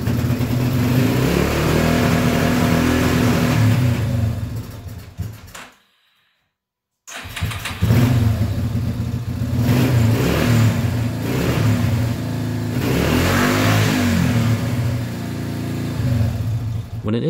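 Yamaha 350 ATV engine idling and running with steady low rumble, loud and close, cutting out briefly before restarting and continuing with uneven sputtering pulses suggesting exhaust pops.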